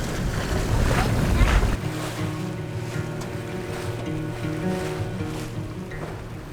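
A sailboat under full sail near an anchorage in the San Blas islands, with steady wind rush and water wash against the hull and a low, constant hum running throughout.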